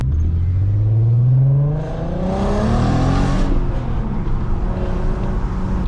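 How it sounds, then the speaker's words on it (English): A 167,000-mile VW Golf R32 engine revs loudly with quick throttle blips on downshifts, pitch rising and falling in sharp surges, close and alone with no talk. "You can just blip downshifts for days."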